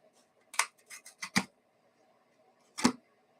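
A small cutting tool snips and crunches through cardboard in a quick burst of four or five close, crisp cuts, then a pause and one more sharp cut, with no talking.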